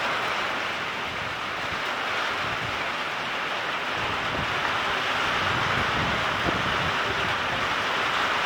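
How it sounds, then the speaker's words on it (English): Strong wind driving heavy rain during a severe thunderstorm with microburst winds, a constant roaring rush of wind and rain, loud and close, buffeting the microphone with no let-up. "Now, the wind is driving the rain in this way."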